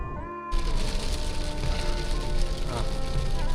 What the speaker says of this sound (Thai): ฝนลงมาแล้ว